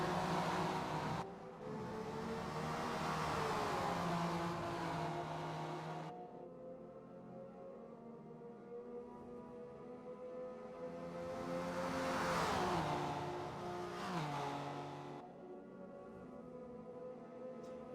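Engines of race cars, including a Porsche, scream side by side through a Le Mans circuit in a racing video game, swelling loudly as they pass, then fading to a lower drone before another surge.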